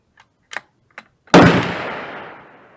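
A rifle firing 7.62x39 ammunition at a target: a few small clicks of handling, then one loud, close shot with a long fading echo.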